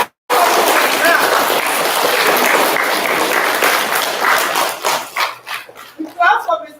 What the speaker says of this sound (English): We clap for Mrs. Knapp first